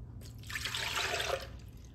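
Nut milk pours into a blender in a short, soft liquid splash and trickle, quiet and close, lasting about a second before tapering off.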